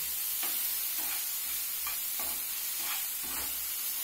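Okra coated in besan batter and sprinkled with sesame seeds fries with a steady, even sizzle in a pan, broken by several soft, regular scraping stirs about every half second; no one speaks.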